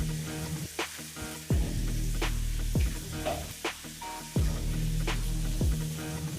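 Fennel seeds, cinnamon sticks and cloves frying in a pan for a potato kurma, giving a steady close sizzle broken by several sharp scraping stirs of a utensil.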